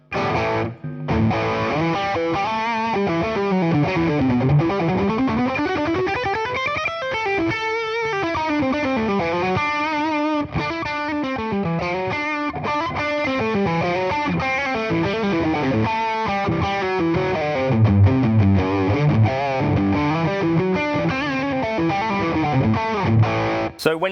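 Electric guitar through a Tubescreamer overdrive pedal with a clean blend mixed in, playing continuous melodic lines with distorted, slightly chorus-like tone, loud and close, no talking.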